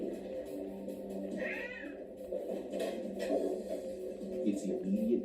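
Aggressive, unsocialised cats meow in a house during an animal rescue, several moderately loud cries rising over a low steady hum with faint background movement.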